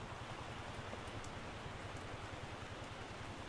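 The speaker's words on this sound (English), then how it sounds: "Yeah, it's hailing." Hail pelting down without pause in The Lighthouse, an indie horror game, heard as an even, close, noisy drumming of tiny strikes, no talk present.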